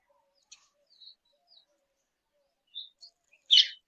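Small birds give sparse, quiet chirps and a few brief tweets while grain is scattered for them outdoors, ending with one louder, closer call.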